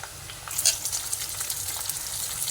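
Boiled potatoes and green peas fry in a pan with a steady hiss that swells into brighter crackling sizzles, close and continuous, with no voices.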